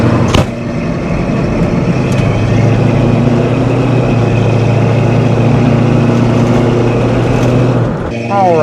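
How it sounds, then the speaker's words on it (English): A 1973 Pontiac Firebird Formula 350 with its original Pontiac 350 V8 runs at a steady, loud, close idle with a deep even rumble for most of the clip, and a brief click near the start and end. "It does have the original Pontiac 350 in it, and it runs extremely well."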